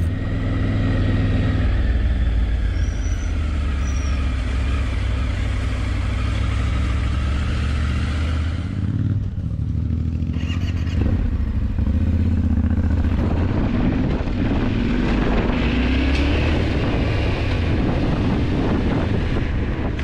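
A Honda Africa Twin motorcycle rides a stone track in the Alps, its engine droning steadily under heavy roaring wind buffeting the microphone, with a brief dip midway before the engine pulls harder again.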